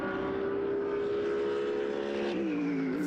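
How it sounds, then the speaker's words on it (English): Mercedes-AMG GT3 race car powering through the final corner at Valencia, its loud engine note holding steady then dropping with a gear change and rising again as it passes close by. "Through the final corner now comes the AMG GT3."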